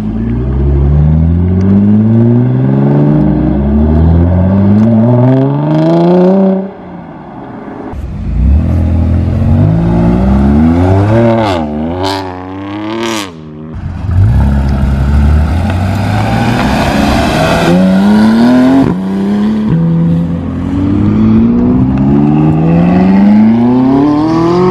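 A Lamborghini Aventador revs hard and accelerates away, its engine note climbing through several loud gear sweeps with brief dips between shifts, close and very loud before it fades as it leaves.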